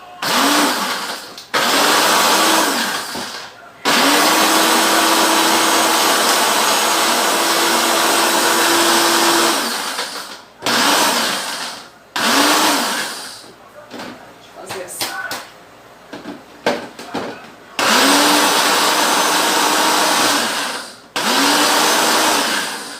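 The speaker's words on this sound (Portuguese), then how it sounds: "fui mexendo no liquidificador" A kitchen blender grinds food into a flour-like crumb in loud, repeated bursts of whirring motor, stopping and restarting several times, with a person talking in the pauses.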